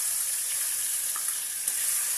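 Onion goes into hot oil in a pan for mutton curry and fries with a steady, loud, hissing sizzle that runs without pause, with faint crackles and no voices.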